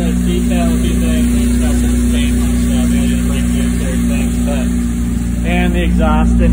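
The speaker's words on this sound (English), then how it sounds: "And the exhaust didn't quite line up, so it's pretty loud." A restored 1991 Toyota MR2 NA engine runs loud and steady with its misaligned exhaust, a constant close droning hum under talking.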